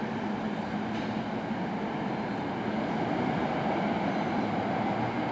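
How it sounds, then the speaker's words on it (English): A commuter train pulls out of a suburban rail station bound for Center City, a continuous low rumble and rolling drone of the cars steady throughout, fairly loud and close with no speech. "Goodbye, train."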